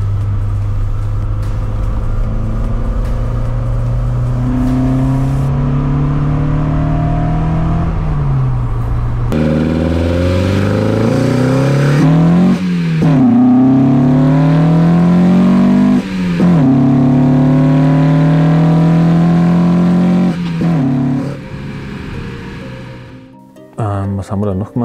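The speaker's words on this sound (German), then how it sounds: "Also das Auto fährt wirklich gut, es fährt da klappert nichts, es ist alles wie neu" An old rear-wheel-drive Opel Ascona drives past, its engine rising and falling through several gear changes, loud and close, with talk over parts of it.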